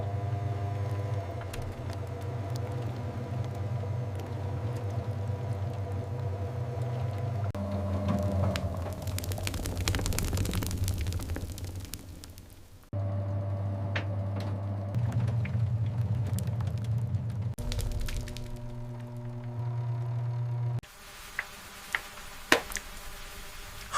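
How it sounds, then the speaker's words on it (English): A honey extractor spinner whirs as a steady motorized hum that builds in speed, with periodic ticking and rattling, pausing briefly and starting again, then ending with a few sharp clicks. "The spinner starts at a slow speed and increases steadily to extract all honey without breaking the fragile comb foundation."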